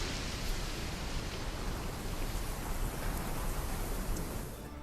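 Steady, dense rain in the pirate game Pixel Piracy, a continuous broadband hiss with soft low rumble that holds evenly throughout and fades slightly at the very end, with no talking.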